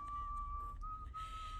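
A person whistles one sustained, fairly steady note that wavers slightly in pitch, quiet and close, against a low background hum with a few faint knocks.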